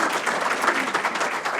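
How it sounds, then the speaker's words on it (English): Audience applause fills a lunch gathering, a dense steady wash of many hands clapping close by for nearly two seconds without pause. "In fact, let's applaud them now."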